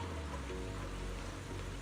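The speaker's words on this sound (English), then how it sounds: "Is it because of the rain?" Rain in the video game Zenless Zone Zero makes a steady, dense hiss of falling drops that fills the whole clip with no break.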